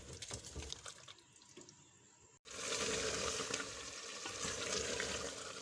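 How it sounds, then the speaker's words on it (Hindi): Meat curry with yogurt and tomato frying in a pot, a steady hiss of sizzling that drops briefly, cuts out for an instant, then returns louder and continues close without talk. "ये देखें इसको मैं भून रही हूँ थोड़ा"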